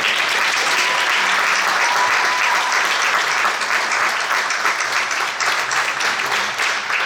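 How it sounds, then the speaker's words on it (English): A large audience at a competition applauds steadily, dense clapping filling the room at full volume throughout, with no talk over it. "let's give them all a round of applause"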